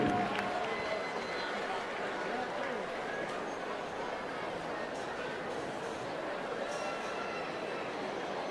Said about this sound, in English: Let's have a round of applause for our Class 5 exhibitors